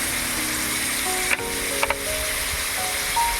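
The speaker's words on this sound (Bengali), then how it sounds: "তেল গরম হয়ে গিয়েছে, এবারে দিয়ে দেব চিকেন।" Chicken fries in hot white oil with a loud, constant hiss and crackle, punctuated by a few brief clinks and stirs in the pan, with no one talking.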